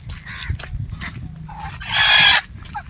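Desi chickens cluck in short scattered bursts, with one louder, harsher squawk standing out near the end over faint low background noise.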